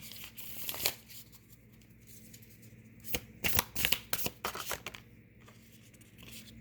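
A deck of oracle cards is shuffled and handled up close, crisp riffling bursts mixed with softer sliding and tapping, faint between the louder flurries.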